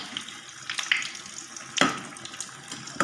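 Bread pakoras fry in hot oil with a continuous crackling sizzle, broken by sharp clattering clicks as the pieces are turned over with a utensil in the pan.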